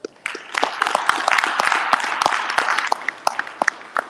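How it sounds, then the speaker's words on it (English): An audience at a citywide men's meeting breaks into applause, a dense burst of many hands clapping that swells quickly and thins toward the end, loud and close. "Give yourself a round of applause for that."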